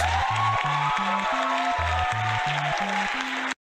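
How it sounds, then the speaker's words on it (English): Thin, sparse clapping played back from a clip, a modest scattering of hands under a repeating low stepped musical tone pattern, cutting off abruptly at the end. "That's a nice little cope applause."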